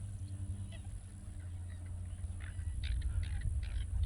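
A flock of birds calls beside the Ocklawaha River in Florida, scattered honking cries rising more often toward the end over a low steady background hum, moderately distant.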